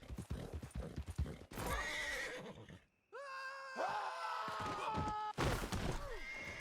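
A horse in Red Dead Redemption 2 gallops with rapid clip-clopping hooves, then lets out a loud, drawn-out neigh, followed by more hoofbeats and another whinny, fairly close.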